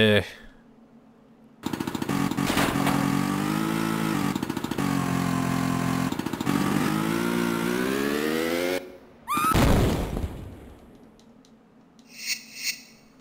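A vehicle engine in the Tomb Raider 2 remaster revs hard and steadily for several seconds with rising and falling harmonic pitch, cuts off, then gives a short loud burst before fading into quieter game ambience.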